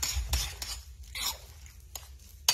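Spoon scraping and stirring blueberries into a bowl of oatmeal porridge, a few soft wet scrapes and clinks against the dish, close and quiet, with no one talking.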